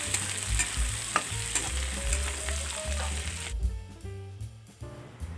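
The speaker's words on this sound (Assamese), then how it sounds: "এতিয়া আলুখিনি দি দিছোঁ। আলুখিনি দি মই এতিয়া ধুনীয়া কৰি মই এইখিনি মই ভাজি ল'ম" Potatoes with spices being fried and stirred in a pan for a home-cooked Assamese fish curry, a steady sizzle with repeated scraping stir strokes, close and loud, ending in a few sharper clatters.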